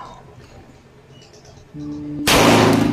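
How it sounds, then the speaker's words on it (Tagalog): A single loud gunshot cracks close by after a tonal hum, its sharp blast ringing out to the end. "unang putok pa lang, wasak ang bao"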